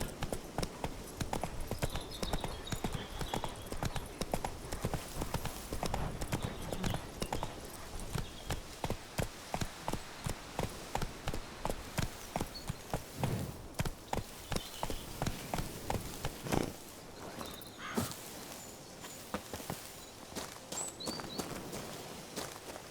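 Roach the horse in The Witcher 3 gallops steadily. Rapid, close hoofbeats run continuously and ease off near the end, with faint ambient game sound underneath.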